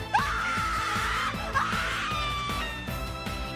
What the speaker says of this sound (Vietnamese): khiến cô gái đi đằng sau sợ hãi, la hét chạy toáng cả lên